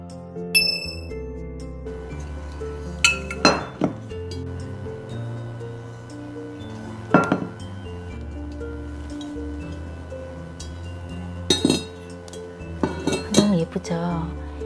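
A 22cm Le Creuset pot is handled, giving a few sparse metallic clinks and knocks spaced several seconds apart over soft background music, with no talk.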